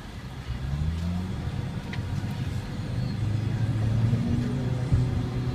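A 2013 Mitsubishi with a CVT transmission accelerates from inside the cabin, its engine a low steady drone with a rising tone as speed builds, muffled and continuous without talk.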